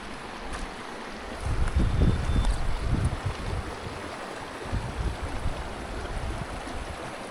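A creek rushes and gurgles in a steady, broad wash outdoors, fairly close, with gusts of wind buffeting the microphone.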